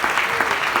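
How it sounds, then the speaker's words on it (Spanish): Brief burst of church congregation applause, dense and steady claps from many hands filling the hall for under a second. "Denle ese aplauso al Señor porque ustedes están durmiendo"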